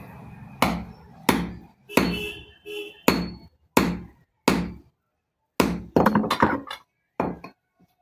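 Hammer blows driving a new shaft into the bush of an air cooler motor: about nine loud, sharp strikes at irregular spacing, some coming in quick clusters, with no talking.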